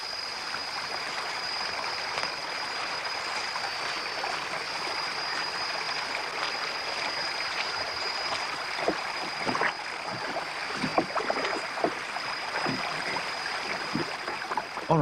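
River water flows steadily during a boat crossing in Indonesian orangutan country, a constant rushing stream with occasional splashes and knocks growing more frequent toward the end.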